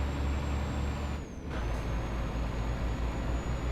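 A Scania R concrete mixer truck in Euro Truck Simulator 2 rumbles loudly as its air brakes give a sharp hissing release over the steady engine drone.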